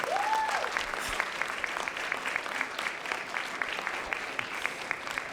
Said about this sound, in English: a round of applause for these wonderful people